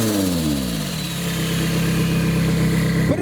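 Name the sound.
car engine revving at a Japanese car meet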